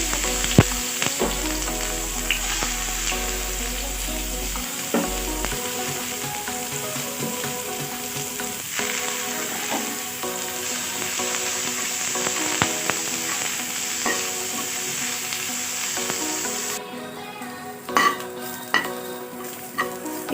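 Salted, washed ridge gourd peel fries in hot oil for an Assamese chutney, a continuous close sizzle with repeated scraping and clinking of a spatula stirring in the pan throughout.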